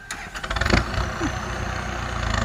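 A Kubota M6240 tractor engine cranks and catches close by, a few uneven bursts giving way to a steady low diesel rumble with slight rhythmic pulsing.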